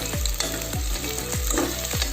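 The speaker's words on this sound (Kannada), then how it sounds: "ಈಗ ನಾನಿಲ್ಲಿ ಬಿರಿಯಾನಿಗೆ ಈರುಳ್ಳಿಯನ್ನು ಫ್ರೈ ಮಾಡ್ತಾ ಇದ್ದೇನೆ." Onions fry in oil for biryani, a close crackling sizzle punctuated by about four regular clunks of a utensil stirring the pan.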